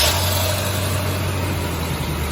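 A 1972 GMC Jimmy engine runs at a steady break-in speed, giving a loud, continuous low rumble with a constant hum and no pauses.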